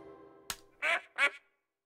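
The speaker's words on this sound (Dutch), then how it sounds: "dat is het geluid dat een eend maakt" A cartoon duck quacking in a toddlers' sound game, two clear raspy quacks close together after a short click, loud and alone with no talk.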